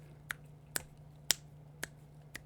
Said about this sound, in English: snap my fingers